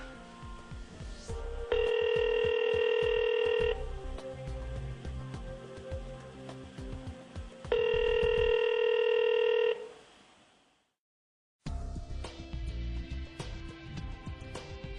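A continuous dial tone on a Yeastar MyPBX phone system runs beneath keypad beeps, and two long, loud steady tones stand out clearly. After a brief silence the tone returns, with no voices over it.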